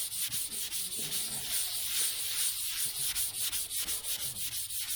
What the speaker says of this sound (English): I'm going to sand all this down at 400 grit